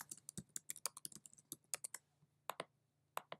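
Quick irregular clicks of a computer keyboard as a title is typed, crisp and close in a quiet room.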